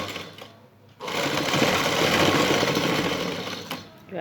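A sewing machine stitching lace runs in a steady, loud continuous whir for about three seconds, starting abruptly after a quiet moment, with no talking.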